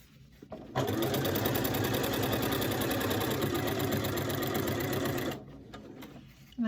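A sewing machine stitches fabric binding strips together in one continuous, loud, fast run lasting several seconds, starting and stopping abruptly with near silence on either side.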